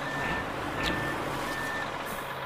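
Reversing beeps from a heavy truck backing up slowly in MudRunner, a steady repeated electronic beep over a low engine rumble, moderately loud and alone without voices.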